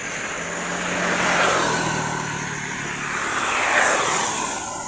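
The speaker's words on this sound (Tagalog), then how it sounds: "ito yung motor natin" A steady motorcycle engine drone rises and swells over a few seconds, like a motorcycle passing nearby, with constant broadband rumble and no talking.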